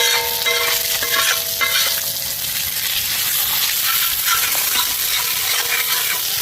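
Masala for pomfret fish fry sizzles in a pan, a steady bright hiss with occasional scraping stirs, close and continuous with no talking.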